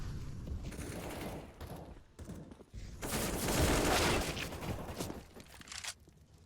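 Gunfire crackles in a Counter-Strike: Global Offensive match as several bursts of shots mix with movement noise, loudest in a dense stretch midway, with no talking.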